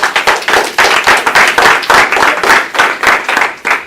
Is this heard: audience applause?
yes